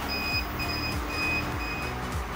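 An inverter's low battery voltage warning beeps repeat at a steady rhythm, each a short high tone, over a low electrical hum and background noise.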